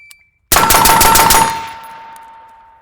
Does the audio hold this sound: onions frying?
no